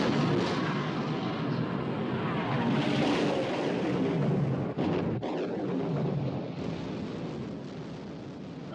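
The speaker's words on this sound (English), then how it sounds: "Open fire. Fire!" Warship guns fire in a war movie about sinking the Bismarck, a loud, sustained roar of booming blasts and rumble with a sharp crack midway and no voices over it.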